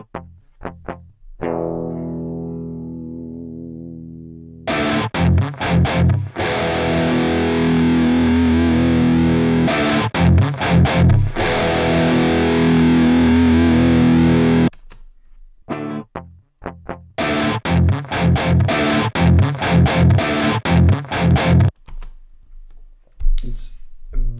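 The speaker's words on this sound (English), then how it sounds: "So we have a nice, pleasant guitar sound." A loud, distorted electric guitar plays through an amp model and impulse response. Chugging chords come in bursts, separated by short gaps of silence, with a thin picked tone at the start.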